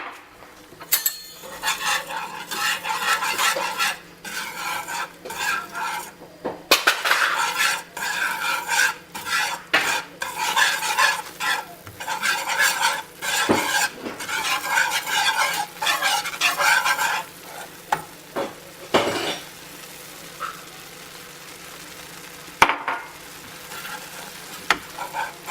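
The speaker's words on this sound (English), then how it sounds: "So you're pretty much just cooking out the flour" Flour is stirred into choux pastry dough in a hot pan, producing a steady scraping and slapping of a spoon against the pan with a faint sizzle. The sound runs in continuous bursts with brief pauses and no speech.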